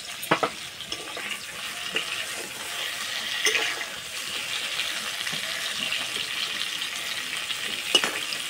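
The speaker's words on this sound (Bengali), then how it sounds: "আর বন্ধুরা এই পটলটা ভাজতে যে একটু সময় লাগবে" Pointed gourd (potol) fries in raw mustard oil in a pan, a soft continuous crackle and sizzle punctuated by occasional scraping stirs and light clinks, no voices.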